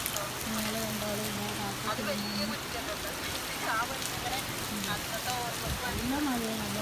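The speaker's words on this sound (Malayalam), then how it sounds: "നല്ല മഴയാണ്. നല്ല മഴ" Heavy rain pours down in a steady, dense hiss that stays even and fairly loud from start to end, with faint tonal sounds in the background.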